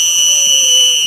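A single loud, shrill whistle blast holds steady for about a second before cutting off.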